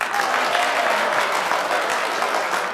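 Casino audience in London claps steadily for a comedic host, a dense, moderately loud round of applause with no talk over it.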